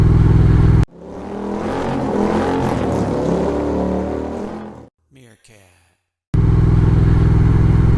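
A Triumph Thruxton R motorcycle out on a Saturday morning ride: a loud, steady engine roar holds for about four seconds, then cuts away to a brief voice, with a dense rushing wind noise before and after.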